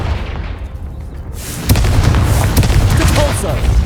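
A Confringo fire spell blasts in the Hogwarts Legacy video game, a sudden loud boom around the midpoint followed by sustained rumbling, crackling explosion noise, with a voice speaking.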